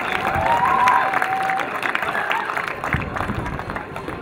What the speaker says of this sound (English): And now a big round of applause for all of our AA teams